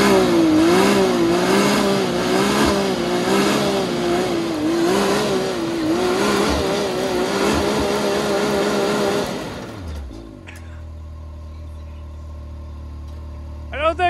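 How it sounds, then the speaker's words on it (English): A Can-Am Maverick side-by-side revs hard and steadily in a loud, close, sustained engine roar while attempting a front-wheel-drive burnout, then the engine drops abruptly to a low idle near the end. "I don't see many front wheel drive burnouts in a Maverick."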